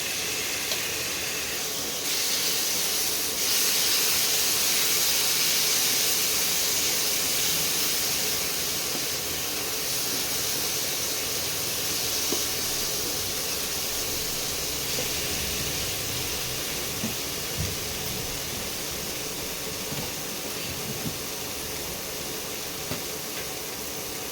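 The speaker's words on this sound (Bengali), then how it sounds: "ধনে আর জিরে গুঁড়ো 1 চামচ, সামান্য একটু জল দিয়ে মশলাটা আমি কষিয়ে নিচ্ছি।" A spice paste of ground coriander and cumin with a splash of water fries in a pan, giving a steady, close hiss and sizzle that holds level throughout with no talking.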